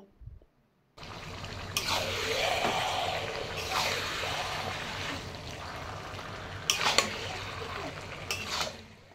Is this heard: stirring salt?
yes